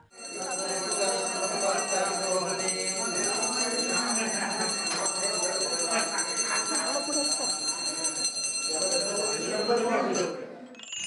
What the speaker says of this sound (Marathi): घंटानाद सुरू झाला